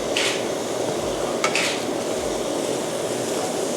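Pork ribs sizzle steadily in a hot pan, with a couple of metallic clinks from a utensil against the pan.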